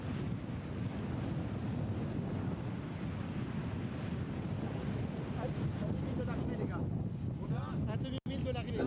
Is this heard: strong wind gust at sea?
yes